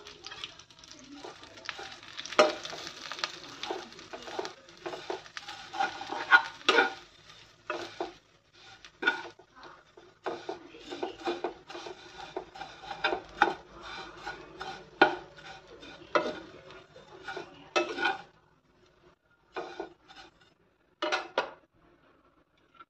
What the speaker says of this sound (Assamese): অকণমান ঘিউত ভাজি লওঁ ধুনীয়াকৈ